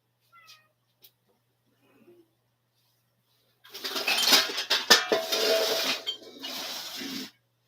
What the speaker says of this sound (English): You're a great kitty.